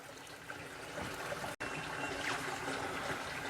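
A flowing stream or small creek outdoors, water trickling and burbling steadily at moderate level, with a brief dropout partway through, no talking.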